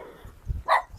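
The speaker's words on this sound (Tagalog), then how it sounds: "May bagong aso ata si Tatay Willie" A single short bark from a dog at a home comes through at moderate distance, preceded by faint low rustling.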